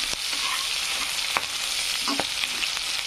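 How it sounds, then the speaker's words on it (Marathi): Onion and green chillies frying in hot oil for masala pulao, a steady loud sizzle throughout with a few faint stirring knocks, no talking. "तर कांदा फ्राय झालाय असा, मिरच्या पण थोड्या तळल्याचा"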